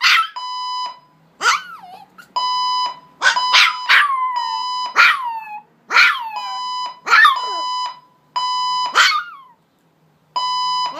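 A Pomeranian howls and yelps in rising, wavering cries between repeated electronic beeps from a fire alarm. The cries sound close and loud, and the bursts alternate over about eleven seconds.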